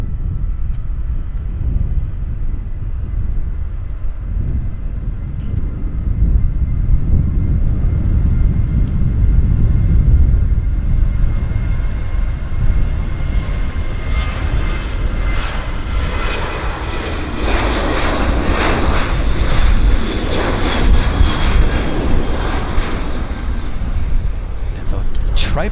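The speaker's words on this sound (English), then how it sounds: "And here's our Westjet right there." A WestJet airliner passes at Vancouver Airport, its engine rumble swelling and building to a loud, broad roar before easing slightly, with a voice talking over parts of it.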